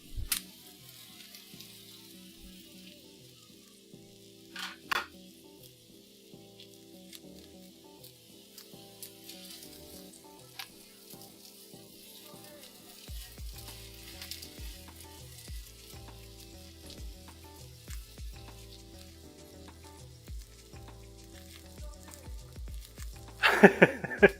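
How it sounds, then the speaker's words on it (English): Steady low sizzling runs throughout, quiet and continuous, with a few louder pops and crackles standing out, the busiest burst coming right at the end. "It's a low effort sizzle."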